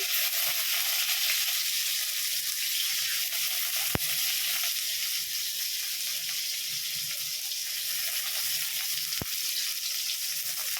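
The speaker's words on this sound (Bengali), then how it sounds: "যে সর্ষের তেল দিয়ে দিয়েছি, শুকনো লঙ্কা, সাদা জিরে, পেঁয়াজ দিলাম ফোড়নে" Dried red chillies, cumin seeds and onion frying in hot mustard oil as a tempering for a potato and jackfruit curry, giving a steady, close hiss and sizzle throughout with a couple of sharp clicks and no talking.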